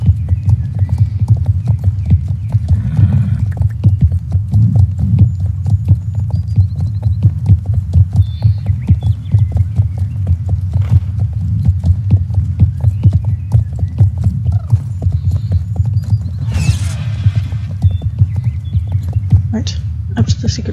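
Horse hooves clip-clop steadily in Star Stable Online, a continuous rhythmic trotting over a low throbbing game hum, with a brief whinny-like burst near the end.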